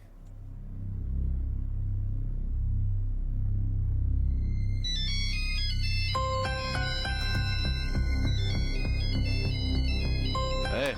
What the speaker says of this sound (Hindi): इतने टाइम से फोन किसका आ रहा है?